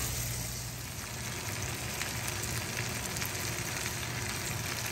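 Potatoes and Italian sausages in casings frying in a cast iron skillet, a steady dense sizzle that holds evenly at close range with no voices.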